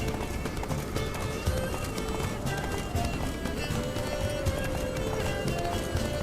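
Hooves of Geralt's horse clatter in a steady galloping rhythm in The Witcher 3, carried under a constant dense bed of game music and ambience.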